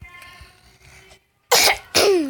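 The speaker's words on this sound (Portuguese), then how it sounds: "tô tossindo" Two sharp, loud coughs close to the microphone, following quieter voice and background sound from a game.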